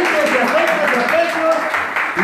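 Audience applauding at a tribute event in Madrid honoring Pepe Cobos, steady loud clapping filling the room with voices and shouts mixed in throughout.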